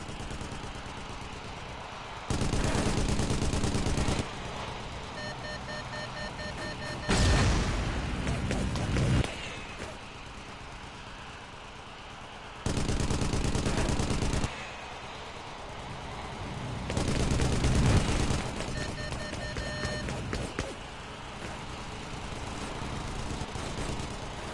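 Gunfire and explosive blasts from the Vietnam air-combat game Air Conflicts: Vietnam come in several loud, sustained bursts of a few seconds each, with a steady engine-like drone underneath.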